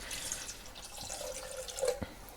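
Water pours into a chicken meatball mixture in a bowl, a soft steady trickle with light drips and splashes, fairly faint and close in a quiet kitchen.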